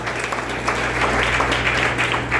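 Applause rising from a church congregation for the Lord during a worship service: a steady, dense wash of many hands clapping at even loudness throughout, with no break.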